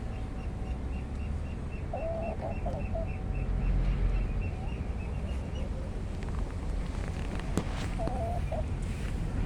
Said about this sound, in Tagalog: Ito naman yung aking Rhode Island Red.